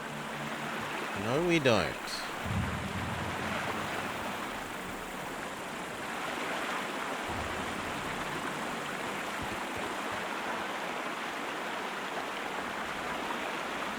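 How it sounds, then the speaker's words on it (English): Loud, steady rushing water fills the ruins of an old Roman city in the Sherlock Holmes: Crimes and Punishments video game, a constant broadband roar, with a brief voice speaking near the start. "God, the water is loud."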